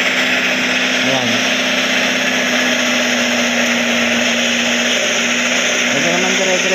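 An owner-type jeep's engine runs steadily while driving on a road, a loud continuous drone and whine with wind roar throughout and brief pitch shifts, no voices.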